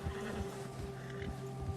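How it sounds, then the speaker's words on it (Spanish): A horse in Red Dead Redemption 2 whinnies in fright after a bear spooks it, a sustained neighing cry over low, busy game ambience, loud and close with no one speaking. "El oso asustó a tu caballo"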